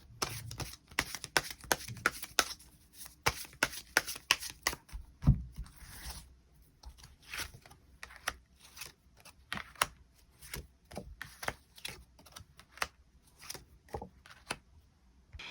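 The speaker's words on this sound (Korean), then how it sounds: "추가 카드 뽑아보도록 하겠습니다" Tarot cards are shuffled and drawn by hand, with quiet, rapid papery flicks and clicks in uneven bursts and short pauses between them.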